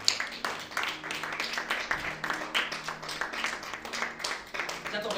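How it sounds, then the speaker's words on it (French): A church congregation at a Sunday service claps rhythmically, moderately loud, with voices audible under the clapping. "Acclame bien Dieu."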